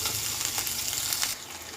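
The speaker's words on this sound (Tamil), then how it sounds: "மறுபடியும் நல்லா இதே மாதிரி நல்லா வதக்கி விட்டுக்கலாம்." Chutney masala with tomato and tamarind sautés in a hot pan with a dense, close sizzle broken by a few scraping stirs. The sizzle drops slightly toward the end.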